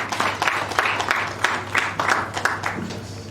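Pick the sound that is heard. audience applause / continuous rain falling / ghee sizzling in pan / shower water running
audience applause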